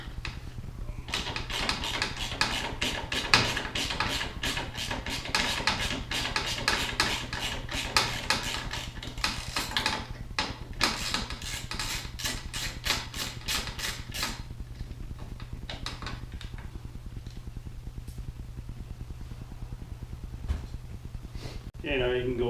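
Rapid ratcheting clicks from a wrench removing the oil tank bolt on a 2018 Polaris Axys 800 snowmobile, a long close run of fast ticks that slows and fades toward the end, over a steady hum.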